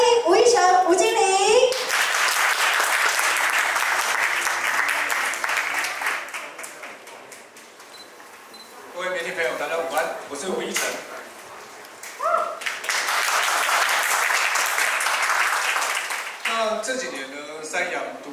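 A crowd bursts into warm applause for a product manager at a SYM scooter media tea event for an online motor show. Two long rounds of clapping fill the room, with a voice speaking briefly before and between them.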